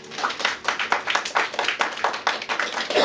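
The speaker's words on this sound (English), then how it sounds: "Please give her a round of applause" A small conference audience claps for a speaker being introduced, a brief burst of moderately loud, fairly close hand claps in a quick uneven patter lasting about three seconds.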